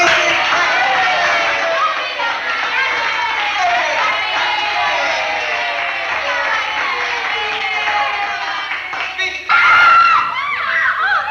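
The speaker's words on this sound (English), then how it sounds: "I want some applause or something" A large crowd roars and cheers continuously at a Muhammad Ali boxing event, loud and dense throughout with shouts and screams rising from the mass of voices, plus a brief louder swell near the end.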